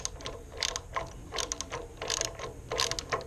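Ratchet clicking while a transaxle mount bolt comes off a Ferris IS 700Z commercial zero-turn mower, giving quick runs of metallic pawl clicks in several close bursts with no talk.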